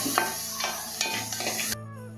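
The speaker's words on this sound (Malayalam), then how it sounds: "ഇനി നല്ലവണ്ണം ഇത് ഇളക്കി ഒന്ന് ചെറിയ ഉള്ളിയൊക്കെ ശരിക്കും ഉരിഞ്ഞു വരണം" Small onions sizzle in a pan on medium flame while a spoon stirs them in steady scraping strokes, ending in a quieter sizzle after the stirring stops.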